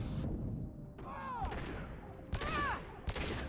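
Bursts of gunfire from the video game Mass Effect crack out in separate volleys amid synthetic game effects, a steady electronic tone and background noise, fairly soft overall.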